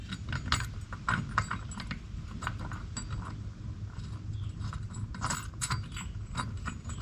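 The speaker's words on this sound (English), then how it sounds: "and then you can simply just use the provided Allen wrench" An Allen wrench turns the mounting bolt of an LED pod light on a third-generation Toyota 4Runner, giving a steady run of quiet metallic clicks and small ratcheting ticks up close, with no speech.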